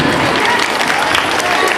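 An audience applauds at a school Navratri garba event at Sanskar Bharti School in Surat: dense, close clapping that holds steady the whole time, with voices mixed in.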